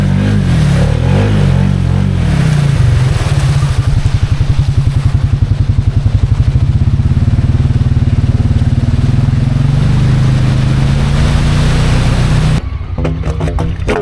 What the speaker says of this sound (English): The Pioneer has the gurgle, and we don't know why yet.